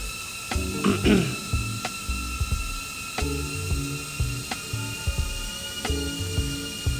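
A mini drone hovers indoors with a steady high-pitched whine of small propellers, its pitch stepping up and down as trim is adjusted, broken by a few clicks.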